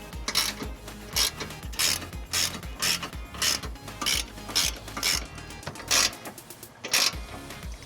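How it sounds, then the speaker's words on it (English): A 1/2-inch ratchet with a 19mm socket snugs up trailer hitch bolts on a 2009 Jeep Grand Cherokee, giving close, rhythmic bursts of ratcheting clicks, about a dozen strokes in steady succession with brief pauses, and no talking. "using a 1/2-inch ratchet and a 19mm, we're gonna go ahead and snug these up"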